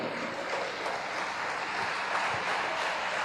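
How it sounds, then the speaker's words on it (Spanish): A church congregation applauding during a sermon, a steady, broad wash of clapping that stays even and fairly soft throughout, with no clear voices on top. "Dame un aplauso al Señor."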